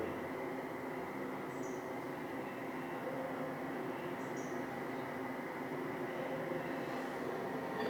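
Steady low rumble and rolling noise of a train passing by at moderate distance, captured on CCTV at Cherlapalli, continuous throughout with no voices.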